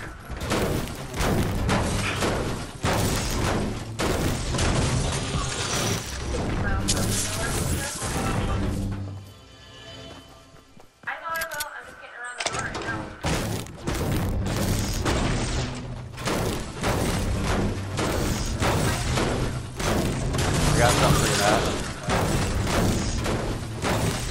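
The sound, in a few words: gunfire in Fortnite video game, SCAR rifle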